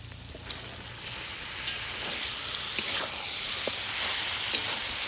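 Mutton trimmings frying in a pan of cooked-down spices for ghugni, a steady close sizzle with occasional stirring clicks and scrapes.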